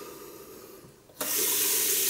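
Cold tap water bursts on partway through and gushes steadily into a sink, a close, loud, even hiss after a quiet start with no speech.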